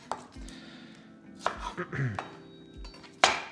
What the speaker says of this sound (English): I'm just going to take away some of these tough layers from the onion